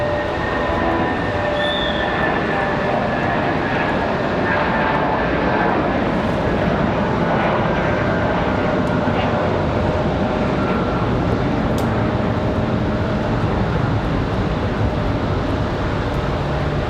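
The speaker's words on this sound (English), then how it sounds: "Departure for United." A United airliner departs Raleigh-Durham International in snowy weather, its jet engines giving a steady, loud broadband roar that holds evenly throughout with no voices.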